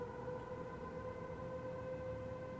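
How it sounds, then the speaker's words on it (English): Air raid sirens in a video game wail in a steady, sustained tone that holds at a constant pitch and loudness for the whole stretch, with a low rumble underneath. "Oh my god, those are air sirens."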